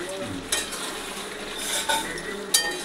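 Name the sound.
chicken meat cooking in a pan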